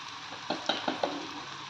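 Okra (ladies' finger) frying in a pan with chilli powder, a steady hiss under a run of four quick scraping stirs close by, with no talk.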